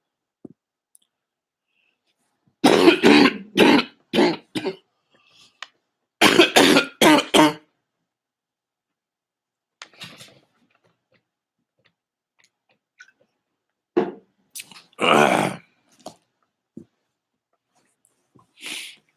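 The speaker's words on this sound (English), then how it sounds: "I had a coughing jag." A burst of several sharp coughs in quick succession, then a pause and a second short cluster of coughs, with quiet gaps between.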